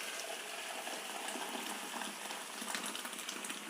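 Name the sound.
rasam coming to a boil in a pot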